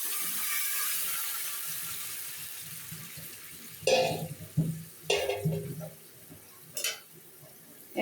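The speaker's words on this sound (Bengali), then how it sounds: "এখন নাড়াচাড়া করে মিশিয়ে জাল করে নেব" A frying pan of koi fish curry with potato, vegetable stalks and tomato is stirred, giving a soft background sizzle broken by several close, sharp scraping and splashing strokes of the spoon.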